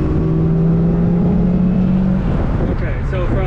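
A supercharged Toyota/Lexus engine held at about 2000 RPM during tuning gives a loud, steady, droning idle-like hum that shifts and lifts slightly near the end, close to the listener.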